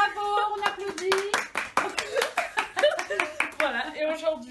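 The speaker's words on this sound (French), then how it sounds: "Bravo, on applaudit." A small group applauds at a farewell ceremony in a cosmetic surgery clinic, with several seconds of scattered hand claps mixed with voices talking and exclaiming over them.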